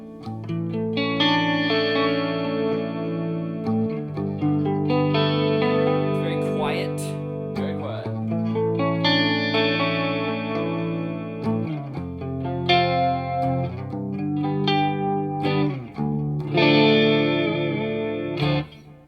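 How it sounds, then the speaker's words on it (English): A clean electric guitar through a Wangs HD 15 amp shimmers with a chorus effect, strummed chords and picked notes ringing out with a wide, wavering tone, played steadily and fairly loud. "That was a little bit of chorus."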